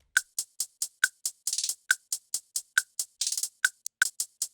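Two layered hi-hat tracks in a produced beat tick together in a tight, steady pattern with occasional fast rolls, bright and close, with nothing else playing.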